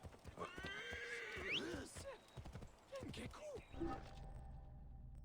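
Horse neighing and whinnying several times alongside clip-clop hoofbeats in the Assassin's Creed Origins video game, close and fairly loud, with game sounds underneath and a voice briefly heard.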